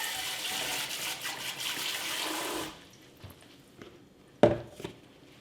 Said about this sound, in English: We're going to give that a few rinses.